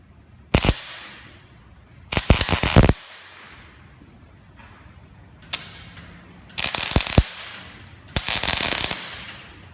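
MIG welder tack welding a steel horseshoe cross: five separate bursts of crackling buzz, each a second or less, some with rapid sputtering pops, loud and close with quiet pauses in between.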